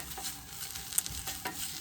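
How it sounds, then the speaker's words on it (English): Onions caramelizing in a pan for French onion soup, a soft steady sizzle with light repeated stirring scrapes, quiet and close, no talking. "Thus you want to keep stirring."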